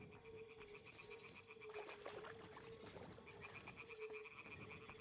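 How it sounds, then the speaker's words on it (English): A toad croaking in a video game set in medieval Kuttenberg country, a faint, steady, rhythmic croaking chorus under a low ambient wash, with no one talking. "That is croaking of a toad, but that's not the ones I'm looking for"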